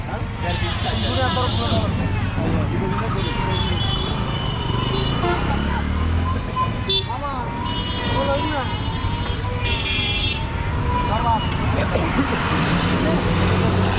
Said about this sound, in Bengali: পাহাড়ের দূর দূরান্ত থেকে মানুষ এই মোটরসাইকেল করে আসছেন বাজারের মুখী হয়ে